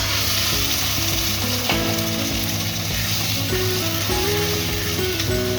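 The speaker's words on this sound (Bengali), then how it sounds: "আর লবঙ্গ দিয়ে দিলাম এই তেলের মধ্যে আর কাঁচা লঙ্কা বেটে রেখেছিলাম এটা দিয়ে দিলাম" Whole cloves, peppercorns, cardamom and green chilli paste fry in oil for Afghani chicken muitha, a loud, steady close sizzle running under background music, with no talking.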